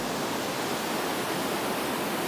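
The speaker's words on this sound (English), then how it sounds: "Just see all this water rushing" Water rushes along a creek on a greenway, a continuous broadband hiss of flowing water heard alone, steady and fairly soft throughout.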